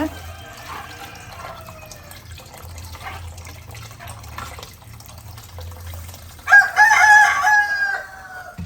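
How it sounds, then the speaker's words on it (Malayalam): A rooster crows loudly near the end, preceded by quieter kitchen background noises from cooking and a low hum. "അതുപോലെ കോഴിയുടെ കൂവലൊക്കെ കേൾക്കാം"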